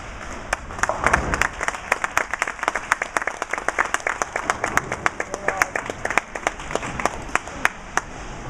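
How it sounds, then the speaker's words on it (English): An audience claps at a girls scratch bowling finals, with sharp individual hand claps standing out over a thinner crowd patter for the whole stretch. "No surprise that it's Jennifer leading the applause"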